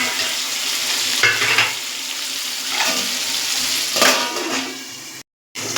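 Fish frying over medium heat in a pan with a lid on, giving a loud, dense, continuous sizzle with occasional scraping and clatter, then a sudden brief silence before the sizzle resumes.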